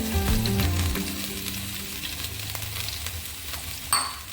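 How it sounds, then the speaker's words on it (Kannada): Chicken sizzles steadily in hot oil in a pan for egg fried rice, a dense, close frying crackle that eases slightly before a sharper burst of spitting near the end. "ಒಂದು ಸೈಡ್ ಆ ಕಡೆ ಫ್ರೈ ಆಗ್ತಾ ಇದೆ"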